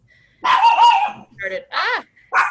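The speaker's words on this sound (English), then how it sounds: "That's my dog." A dog in a home barks and yips in several short bursts, close and loud, and the yelps sometimes sound whiny, with a voice speaking briefly among them.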